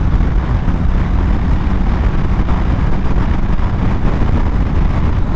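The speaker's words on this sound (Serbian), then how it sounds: "Evo vidite kako ubrzavam 6. stepen prenosa sa 5000 obrtaja" A 2024 Suzuki GSX-S 1000 GT motorcycle pulls hard in sixth gear from about 5000 rpm, giving a steady, loud engine drone mixed with heavy wind rush, continuous and unbroken throughout.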